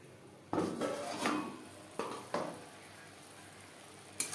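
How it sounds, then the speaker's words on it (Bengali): A ground spice paste for a vegetarian pointed gourd (potol) dish is stirred in a pan over a low-to-medium flame, with sharp metallic clanks and scrapes of the utensil in about five bursts over a faint, quiet background. "3-4 মিনিট লো টু মিডিয়াম ফ্লেমে নাড়াচাড়া করে নেব।"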